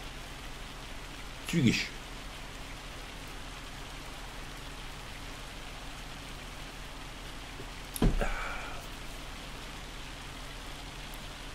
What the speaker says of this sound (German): Leute, lass mich nicht so lange hier im Regen stehen.